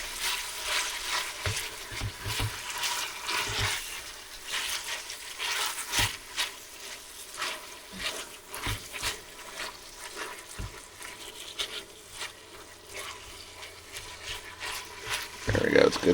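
Ground beef and pork fry in a pot while being stirred and scraped, a continuous close sizzle broken by repeated spoon knocks and scrapes, with someone talking over it.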